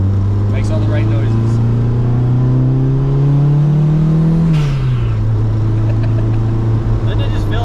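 A turbocharged Honda car's engine climbs steadily in pitch under acceleration, then drops sharply at a shift and pulls again. It is loud and close from inside the car, with people talking over it.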